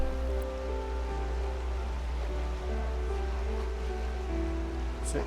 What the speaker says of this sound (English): We are wading through this stream now